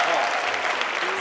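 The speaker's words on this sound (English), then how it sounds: "Please, another round of applause." An audience at a talk applauds with steady, dense clapping that fills the whole short moment, and a voice is heard faintly under it.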